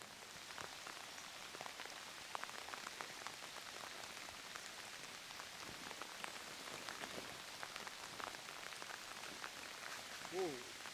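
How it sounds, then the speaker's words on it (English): Light drizzle patters steadily on surfaces beside a river, a soft, even hiss of scattered drops with a faint voice briefly near the end. "We've been glad of the drizzle today because it's been chucking down most of the day"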